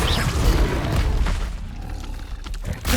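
A fire spell explosion in the video game Hogwarts Legacy: a loud, rumbling boom with a roaring tail that slowly fades, followed by a smaller burst near the end.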